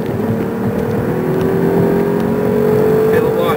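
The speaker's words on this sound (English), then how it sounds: "Feel the launch, all 12 cylinders working." A Mercedes-Benz S600 Sport V12 accelerating hard from inside the cabin, a smooth, muted engine note climbing steadily in pitch under a low road hum, with someone talking over it.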